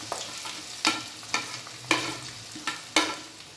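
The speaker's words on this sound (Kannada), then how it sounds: "ಈಗ ಸ್ವಲ್ಪ ರೆಡ್ ಚಿಲ್ಲಿ ಆ್ಯಡ್ ಮಾಡ್ಕೊಳ್ಳೋಣ." Red chilli frying in hot oil, a soft sizzle punctuated by four or five sharp stirring scrapes at a steady rhythm.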